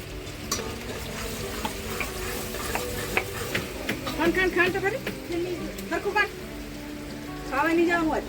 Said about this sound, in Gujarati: સૌ પ્રથમ ડુંગળી સાંતળવા તેલમાં નાખી દીધી છે